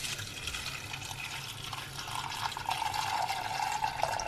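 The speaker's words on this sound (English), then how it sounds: "Next, we'll add 2 cups worth of water." Two cups of water pour steadily into a pot of spelt flake porridge, a continuous splashing stream whose pitch rises slightly as the vessel fills.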